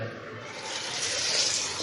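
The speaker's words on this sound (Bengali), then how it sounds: "এখন একটু মুখ টুক ফ্রেশ করে নেব" Cold tap water running into a sink while someone washes their face, a soft steady splashing stream heard up close for a couple of seconds.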